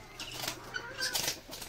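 A pet parrot flaps its wings nearby in a home, giving a series of rapid fluttering whooshes and soft feather beats that come in short irregular bursts at moderate loudness.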